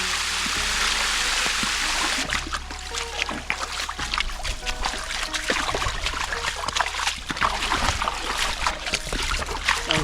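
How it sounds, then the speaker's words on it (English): Water running through a rural Japanese irrigation channel down to a lower channel, a loud, continuous rushing flow with splashing and trickling close by. "So this also takes water down to the lower channel."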